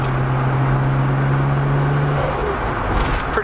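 A Nissan Stagea wagon's engine heard from inside while driving, a steady droning hum with a low tonal whine that fades midway, surrounded by road noise.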